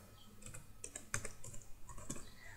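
Typing code into an HTML registration form on a computer keyboard: quick irregular key clicks, some sharper taps, close and fairly quiet with no voices.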